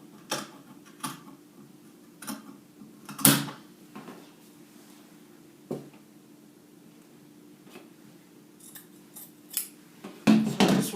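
Scissors trim a fabric piece for a princess dart bustier blouse, a handful of sharp snips and clicks separated by quiet pauses, close and fairly faint, with a cluster of quick cuts near the end.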